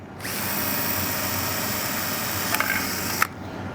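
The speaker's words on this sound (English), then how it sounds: "we're going to actually drill right through the valve body to create a vent" A power drill whines steadily and loudly for about three seconds, close up, drilling through a transmission valve body to make a vent, then cuts off abruptly after a couple of small catches.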